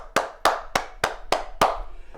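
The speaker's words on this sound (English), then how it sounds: "round of applause." Six sharp, evenly spaced hand claps, about a third of a second apart, sound close and fairly loud with no talk around them, like a small round of applause from a single person or a few people.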